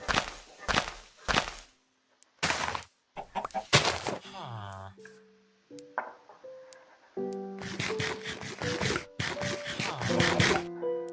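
Minecraft chickens clucking in short, pitched bursts mixed with game sound effects like block breaking and popping pickups, with quiet gaps between clusters.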